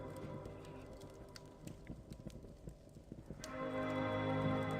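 Horse hooves clip-clop in the video game Dread Delusion, a quick run of steady, fairly close steps with no one talking, before a louder ambient drone swells in near the end.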